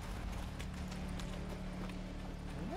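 Horse hooves clip-clop in a steady walking rhythm in the Witcher 3 video game, moderately close, with a short tonal cue near the end.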